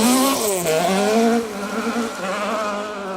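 A 2.5 litre Mark II Ford Escort rally car passes on a forest rally stage, its engine note sweeping downward as it goes by, then holding a steady loud drone that fades slightly.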